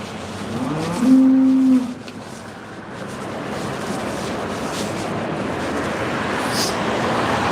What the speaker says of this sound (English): You hear those cows bellowing in there?